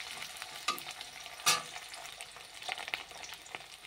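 Potatoes frying in oil with a green chilli are stirred in a pan, producing a soft continuous sizzle broken by a few distinct scraping stirs, one sharper clatter near the middle, all close and without speech.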